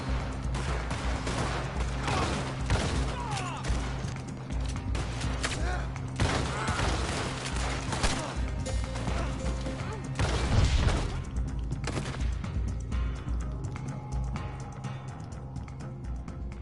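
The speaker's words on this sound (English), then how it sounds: "Savage, man, this shotgun." Shotgun gunfire in the Red Dead Online video game, with repeated heavy booming blasts and crashing impacts over a dense, busy game soundscape, while someone talks across the shooting.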